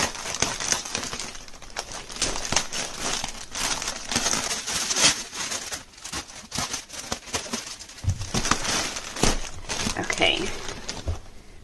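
Plastic bags crinkling and rustling close by, with scattered crackles and handling noises running throughout.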